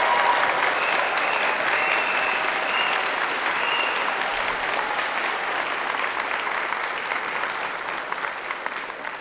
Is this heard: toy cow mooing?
no